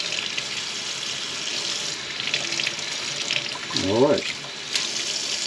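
Tap water running over a freshly peeled egg in a kitchen sink, a steady close faucet stream with splashing that briefly swells as the egg is rinsed; someone speaks briefly.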